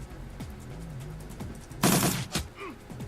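A burst of gunfire in the video game Shadowrun Returns, a loud dense volley with a sharp follow-up shot, set among tonal game sound effects, with no talking.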